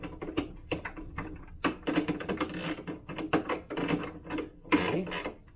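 A wrench snugs up bolts on a Strider rocking base during a Specialized Hotwalk install, giving irregular close clicks and ratcheting ticks in quick uneven bursts, with no talking.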